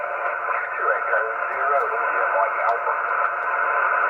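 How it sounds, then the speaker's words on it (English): Noisy 40 m amateur band reception on a Yaesu FT-891 transceiver: a steady band of hiss and crackling static with faint, distorted voice fragments buried in it, continuous and fairly loud throughout. "I'm getting a lot of static crashes here"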